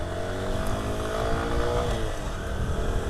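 A Honda Grom 125 motorcycle engine revs and pulls away, its rising and falling drone close and continuous under wind noise, with no one talking.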